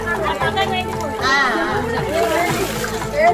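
Water splashes and sloshes as pots are filled from a well at a wedding ritual, heard beneath lively overlapping chatter and children's voices close by.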